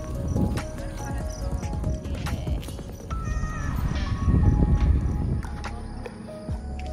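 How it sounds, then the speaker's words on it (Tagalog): Crocs shoes clop in steady footsteps on a hard path at a scenic outdoor spot, close and fairly loud, with faint background voices. "Ang rinig dyan, yung yapak ng crocs."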